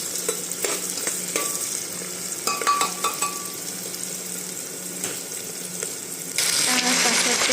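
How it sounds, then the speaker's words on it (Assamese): Cumin and chopped onion frying in hot oil in a pressure cooker, a loud close sizzle with repeated scraping stirs against the metal, growing louder toward the end. "তেলখিনি অলপ গৰম হোৱাৰ লগে লগে তাত জিৰা আৰু কাটি থোৱা পিঁয়াজখিনি দি দিলোঁ।"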